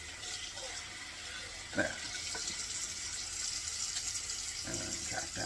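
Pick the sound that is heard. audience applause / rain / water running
water running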